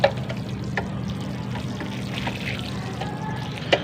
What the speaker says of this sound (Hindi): मैं फिर भी थोड़ा सा पानी दे लूँगा शावर की मदद से